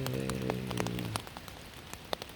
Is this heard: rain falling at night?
yes